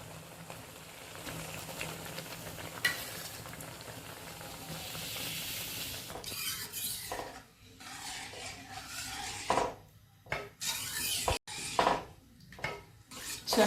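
Dissolved cooked dal is poured into a hot pan for village-style green sundakkai kuzhambu, producing a soft continuous hiss that breaks into uneven bursts of sizzling and bubbling with scattered utensil clinks. No voices.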